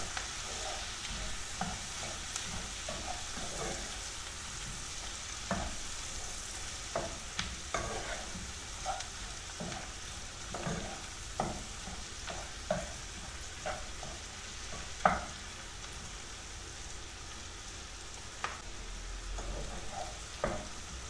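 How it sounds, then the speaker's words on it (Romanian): A spoon stirs lentil soup in a pot after cumin, turmeric and fresh ground pepper go in, giving soft, steady scraping with brief sharp clinks against a low, continuous sizzle, close and alone without voices. "Amestecăm și lăsăm un minut."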